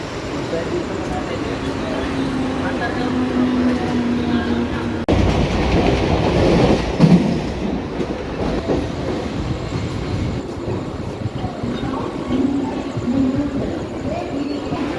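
Train ride in a crowded general coach, with a steady rumble and rhythmic clatter of wheels on the rails continuing throughout, plus a brief louder burst midway and voices of passengers in the background.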